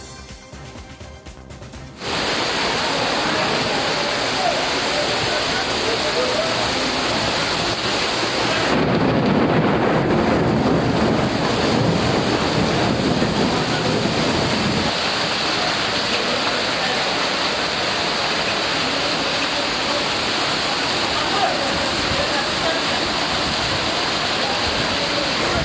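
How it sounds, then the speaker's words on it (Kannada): Torrential rain and rushing floodwater pour in Hubballi in a loud, steady roar that sets in after a quieter opening and holds without a break. "ಹುಬ್ಬಳ್ಳಿ ಜಿಲ್ಲೆಯಲ್ಲೂ ಧಾರಾಕಾರ ಮಳೆಯಾಗಿದೆ."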